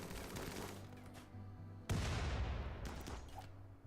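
Gunfire in the colony-building video game Rimworld: a few separate shots, the loudest a sharp crack near the middle followed by a short trailing burst, fairly faint overall with no talk.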